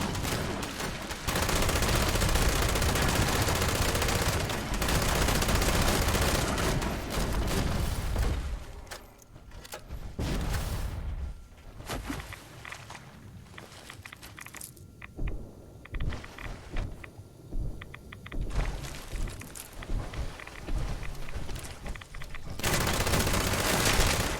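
A gun firing in Fallout 76 during a vault raid: dense bursts of rapid gunfire at first, then a sparser stretch of scattered single shots and booms, loud and close.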